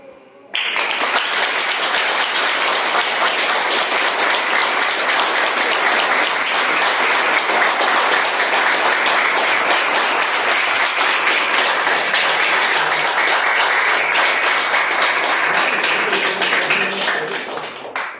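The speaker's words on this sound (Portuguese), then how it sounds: "Então, eu queria uma salva de palmas para o mestre Geni." Long, loud round of audience applause for Mestre Geni at a capoeira lecture and trophy event, starting abruptly, holding steady for about seventeen seconds, then tapering off.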